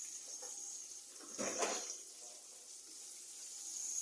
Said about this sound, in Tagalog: Lagyan mo na ng tubig.